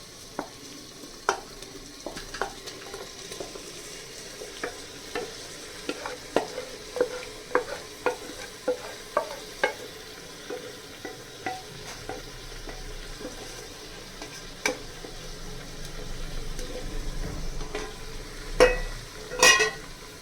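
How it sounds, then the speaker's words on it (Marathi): Marinated vegetables being stirred and mixed with masala in a pan for veg biryani, with repeated scraping stir strokes over a soft sizzle that grows louder toward the end. "तर आता हे आपण मॅरिनेशनसाठी ठेवलेल्या भाज्या आणि हे जे आपण मसाला बनवलेला तो एकत्र करून घेणार आहोत"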